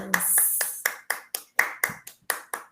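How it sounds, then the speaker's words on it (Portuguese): Sharp, distinct handclaps at a talk or gathering, roughly ten separate claps in a quick, slightly uneven rhythm, close and clear against quiet. "Palmas!"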